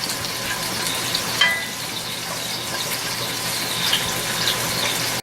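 Smoked paprika chicken in its juices sizzles steadily in a pan as it heats back up, a continuous close frying hiss with light stirring clicks and no voices.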